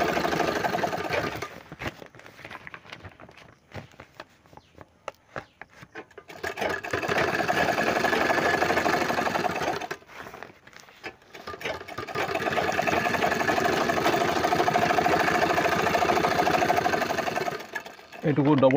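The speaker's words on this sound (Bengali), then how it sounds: "এটুকু ডবল সেলাই চালাই দিতে হবে" A sewing machine runs in bursts while double-stitching a bag made from a fertilizer sack, a steady mechanical whir near at hand with pauses between runs, and a person talks over it in places.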